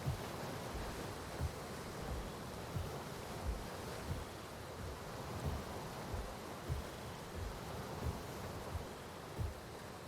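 A waterfall in the video game Path of Titans gives a steady, dense rushing roar that fills the whole clip, with faint periodic low thumps and no talk.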